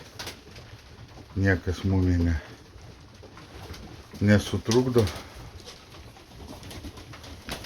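Pigeons or doves cooing in two low, rolling bouts, kept as year-round cared-for birds, with a person talking nearby.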